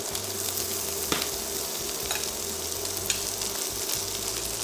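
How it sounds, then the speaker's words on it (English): Chili, garlic and spring onion whites fry in bacon fat in a pan for a spaghetti stir-fry. A soft, continuous sizzle sits close, with a few light stirring clicks over a low background hum. "Fry all this for about a minute till they are all fragrant."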